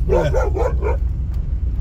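A dog barks four times in a quick, close series beside a 1985 Soviet Lada working up a rough hillside track, with a low engine rumble steady underneath.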